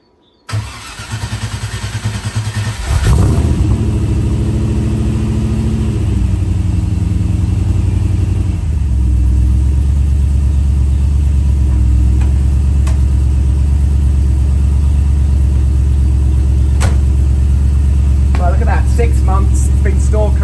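A Morgan Plus 8 fetched out of winter storage cranks briefly, then catches and settles into a loud, steady, close idle that runs on for many seconds, with a few faint clicks near the end.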